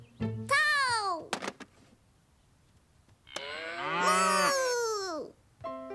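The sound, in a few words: cow mooing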